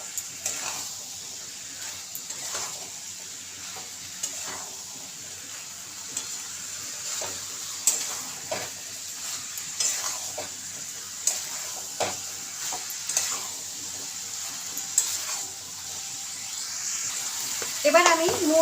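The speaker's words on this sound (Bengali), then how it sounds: "মশলাটা কষানো হয়ে গেছে, এবার আমি সেদ্ধ করা চানাগুলো দিয়ে দেবো।" Boiled chickpeas stirred into a spiced masala in a pan: a steady soft sizzle with a spoon scraping in irregular strokes every second or two, plus a few light clinks near the end.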